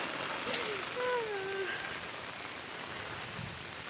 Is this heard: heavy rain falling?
yes